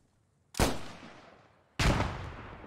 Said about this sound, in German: Nette Explosion.